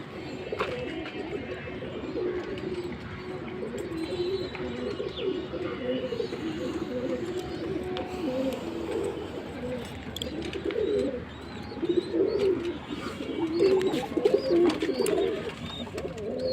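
Pigeons in a cage, including a Black Jack pair with eggs, coo repeatedly in soft, rolling calls that overlap and swell toward the end, heard close over a faint background murmur.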